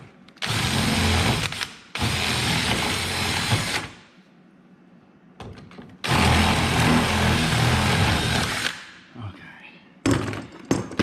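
A power drill whines loudly in long bursts, drilling into a broken aftermarket Jeep hood lock, stopping and restarting several times with brief pauses and small clanks between runs.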